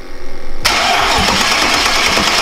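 A Mercedes-Benz V8 car engine cranks with a few rhythmic starter turns, catches with a loud burst and settles into a steady, close rumbling idle.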